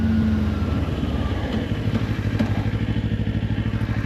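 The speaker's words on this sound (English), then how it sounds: "I'm glad to be back on a Kawasaki again" A Kawasaki motorcycle cruises along with a steady, low engine drone and faint rattling, heard close and continuous throughout with no voices.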